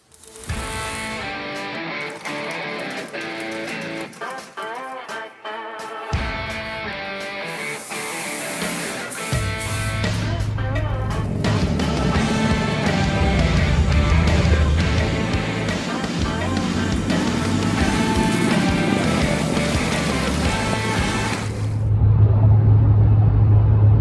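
A vehicle towing a trailer with a barn-find car aboard rolls across a bridge, a loud continuous road rumble with rattling and clanking from the trailer, building heavier in the second half.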